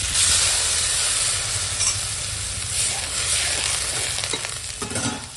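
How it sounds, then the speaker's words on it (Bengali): Vegetables, including pointed gourd and pumpkin, fry in a pan with a loud, steady, close sizzle and hiss, with occasional stirring scrapes and no talking. "এখন সবজিটা ভালো করে ভাজা হয়ে গেছে"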